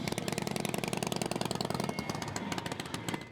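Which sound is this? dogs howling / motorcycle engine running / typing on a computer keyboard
motorcycle engine running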